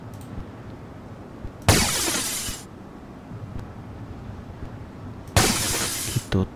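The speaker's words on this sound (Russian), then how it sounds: "Надо стекло выбить, а то мешается." Glass shattering in the Sniper Elite video game as a window is knocked out, two loud bright breaking crashes a few seconds apart over low background rumble.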